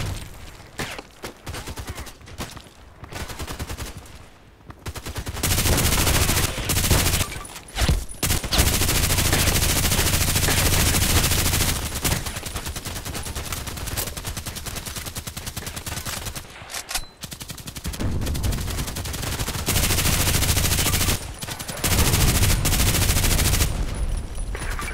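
Bursts of RPKT machine gun fire from the video game Contract Wars rattle out in long, dense volleys, broken by short pauses between strings of shots.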